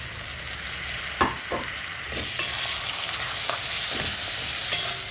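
Ginger and garlic frying in a pan for pepper chicken, a steady soft sizzle with several sharp scraping stirs of a spoon against the pan, close and alone with no talk.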